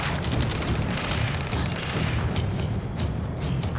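Explosions and artillery fire rumble without a break in the Ace Combat 7 battle. Deep booms blend into a loud, dense wall of noise with scattered sharper bursts.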